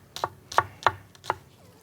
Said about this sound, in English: I'm just going to chop up this shallot.